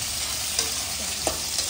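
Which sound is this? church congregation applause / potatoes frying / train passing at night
potatoes frying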